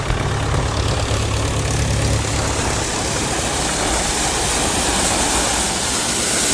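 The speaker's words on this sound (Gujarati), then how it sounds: "આપણું મહિન્દ્રા પાંચસો પિચોતેર લગભગ અગિયારસો આરપીએમ આસપાસ રેસ રાખેલો છે" A Mahindra 575 tractor at around 1100 rpm powers a Shaktiman side-basket thresher, giving a loud, even engine drone with a low hum and a broad rushing whir, close and continuous.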